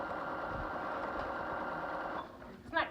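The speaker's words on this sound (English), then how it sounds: "Sewing with a start-stop button." Domestic sewing machine run with a start-stop button and no presser foot, stitching a flying geese quilt block; a steady mechanical whir runs continuously, easing off near the end.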